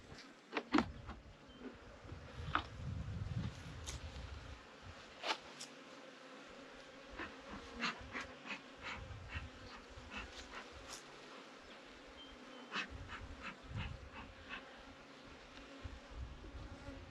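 Honey bees buzz faintly from an opened plastic box with a green lid, a low hum broken by scattered clicks and taps of handling and brief bumps, with no talking.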